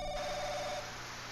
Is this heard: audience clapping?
no